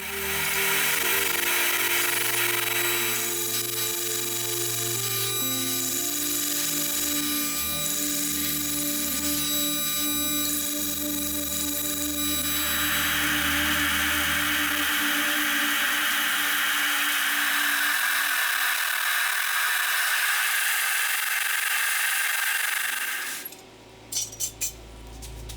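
A forged knife blade is ground to shape on a power grinder, giving a long continuous loud whine and rasp that shifts in pitch, then cuts off near the end into brief clatters.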